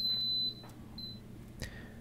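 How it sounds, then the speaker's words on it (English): A Hamilton Beach breakfast sandwich maker with timer emits a few short, high electronic beeps when done, one long tone then brief chirps, followed by a soft click against a low hum. "once it's done, it's going to make a beeping noise"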